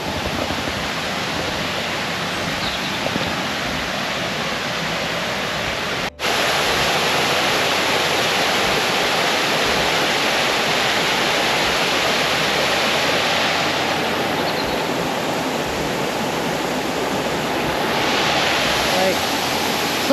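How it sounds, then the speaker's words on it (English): Waterfall in a wooded, boggy valley in South Wales, a steady broadband rush of falling water that is close and loud, with a brief drop-out partway through before the roar continues. "It's not the biggest waterfall, but it's really pretty."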